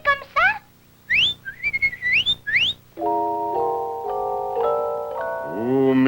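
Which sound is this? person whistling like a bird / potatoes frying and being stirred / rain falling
person whistling like a bird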